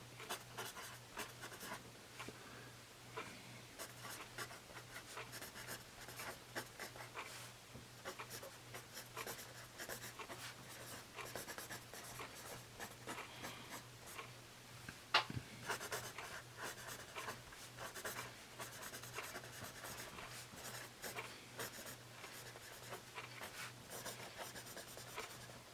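A Bic Xtra Smooth mechanical pencil writes on paper in a quiet room, giving continuous soft scratchy strokes that start and stop in an irregular rhythm, with one sharper tap midway.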